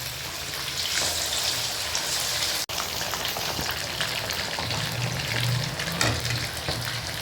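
Chicken kebab pieces frying in hot oil in a kadai, producing a steady, rain-like hiss with scattered pops and a single sharp knock partway through.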